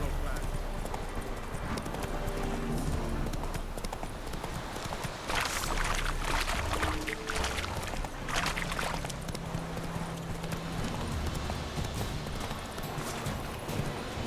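The horse Roach's hooves clip-clop steadily in The Witcher 3 gameplay, a continuous rhythmic trot under game sound with a voice speaking over it.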